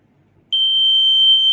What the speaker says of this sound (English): now the same thing, I connect to the buzzer